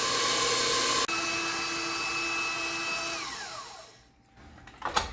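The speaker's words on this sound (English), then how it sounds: "So we've finished whipping the mashed potatoes." An electric mixer whipping mashed potatoes with cream and butter gives a steady loud motor whine that jumps in pitch after a second, holds, then winds down and fades, with a brief clatter at the end.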